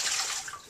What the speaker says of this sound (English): so today what I would do is just drain it off